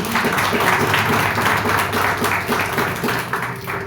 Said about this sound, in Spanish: Den un fuerte aplauso a Jesús.